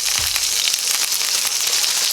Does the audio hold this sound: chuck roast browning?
yes